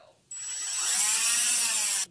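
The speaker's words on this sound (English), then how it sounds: "a power drill." A power drill in a horror movie scene spins up sharply and whines at a steady high pitch for about two seconds, then cuts off abruptly.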